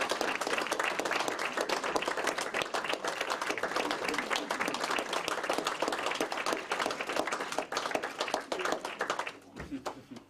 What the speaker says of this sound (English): You've heard the applause, and I'm sure that it's very genuine.